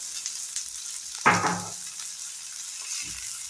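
Shallots and salt fry with brain in a pan under a soft, even background sizzle, with one clear clank of a utensil partway through and a faint knock near the end.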